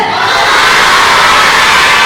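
Crowd of primary school children at a Ramadan fast-breaking gathering shouting a takbir chant together, a loud, dense, sustained roar of many voices.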